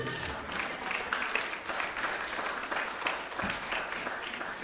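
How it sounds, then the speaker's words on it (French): A church congregation applauds and cheers for the Lord, with dense, steady clapping from many hands filling the room throughout, and faint voices mixed into the crowd noise. "Est-ce qu'on peut acclamer pour le Seigneur?"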